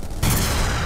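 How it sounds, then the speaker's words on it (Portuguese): A sniper rifle shot in the video game BLACK, a single loud blast that starts abruptly and keeps booming and rolling without a pause to the end. "Nossa, que tiro. Que balinha."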